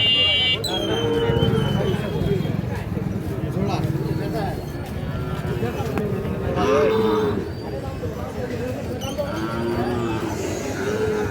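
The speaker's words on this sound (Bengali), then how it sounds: "গরু ভালো দুইটাই" Sahiwal bull calves at the Ambari cattle market moo several times, the lows rising through constant loud crowd chatter and bargaining voices.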